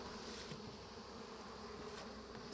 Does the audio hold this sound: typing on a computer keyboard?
no